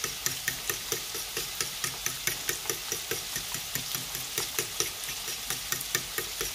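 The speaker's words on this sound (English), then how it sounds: "all you do is just beat the eggs" Eggs being beaten with a pinch of salt in a bowl for an omelette, a steady rapid rhythm of whisk or fork clicks against the bowl, close and fairly loud with no talk.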